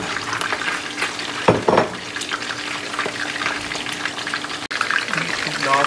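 Oil sizzles and crackles steadily as fish fries in a pan, with a couple of louder clatters and splashes mixed in.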